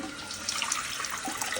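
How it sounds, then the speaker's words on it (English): Water flows into a toilet through its supply after a Korky heavy duty handle and lever repair, a steady close hissing rush with faint trickling detail, with no voices. "now we're gonna turn the water back on"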